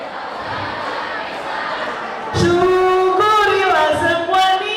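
A crowd of high school students sings together in unison at a school guidance and counseling event, a loud chorus of many voices rising in after a murmur of crowd noise.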